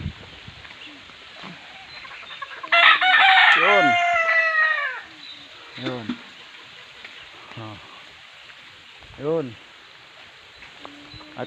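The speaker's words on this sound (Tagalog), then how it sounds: "talagang maraming manok dito" Roosters crow loudly nearby on a farm, one long harmonic cock-a-doodle-doo followed by several shorter crows and clucks from other chickens around.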